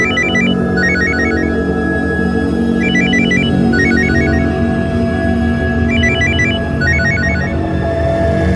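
A phone ringtone plays a repeating electronic melody in short patterned bursts, loud and close, over a low background hum.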